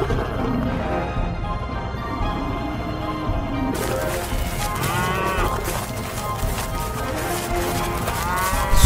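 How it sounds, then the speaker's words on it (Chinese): A herd of adult water buffalo moos and bellows repeatedly, several deep calls overlapping amid a noisy outdoor scene with a few birds. "水牛大军呐，浩浩荡荡的"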